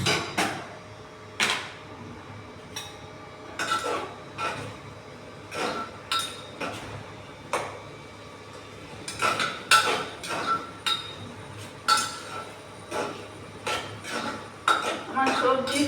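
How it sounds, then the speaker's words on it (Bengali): A pressure cooker holding potatoes and long beans is opened in a home kitchen. Its lid and nearby pots and utensils give a string of close metallic clinks and clatters at irregular intervals. "আমার এই সবজিটা এখন কতখানি হয়েছে আমি কুকারের ঢাকা খুলে দেখছি।"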